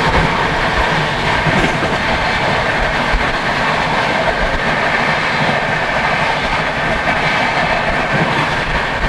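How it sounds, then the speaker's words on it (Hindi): Sealdah Rajdhani Express train running on rails, a loud steady rumble with continuous clickety-clack of wheels on track heard from inside the carriage, no talk. "आज मैं राजधानी एक्सप्रेस में बैठा हूं"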